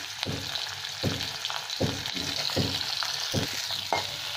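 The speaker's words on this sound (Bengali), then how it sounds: "তেলটা গরম হয়ে গেছে, সর্ষের তেল। মাছটা ভেজে নেবো ভালো করে।" Small fish fry in hot mustard oil with a steady sizzle, broken by repeated sharp bursts of spattering and stirring, close and fairly loud with no talking.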